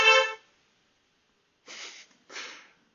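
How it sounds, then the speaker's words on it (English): A car horn sounds from outside, one short honk at the start followed by two softer, breathier bursts after a pause, heard on its own with no talking. "That's my wife honking at me."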